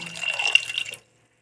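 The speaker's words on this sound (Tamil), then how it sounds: "கொஞ்சமாக புளி தண்ணி விட்டு இதை வந்து வேக வைக்க போகிறேன்" Tamarind water is poured over colocasia (taro) in a cooking pot, a brief splashing pour lasting about a second before cutting off to silence.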